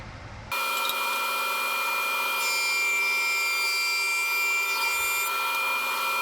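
A power tool runs steadily while walnut boards are milled in a woodshop, starting abruptly after a brief quiet moment and holding a loud, even whine with no talking.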